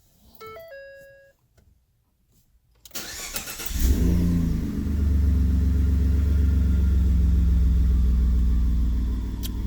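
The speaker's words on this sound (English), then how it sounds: "Can certainly hear the turbos." Ford F-150 EcoBoost with a muffler delete starts and settles into a loud, steady idle rumble close by, its turbos whining faintly above the exhaust; a few electronic chime tones sound first, then a quiet pause before ignition.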